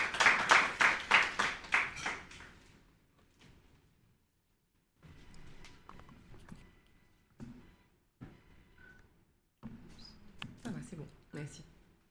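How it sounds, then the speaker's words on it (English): Conference audience applause welcoming a speaker, a brief burst of loud clapping that fades out within a few seconds, followed by someone speaking at a microphone. "I think we can give her a applause."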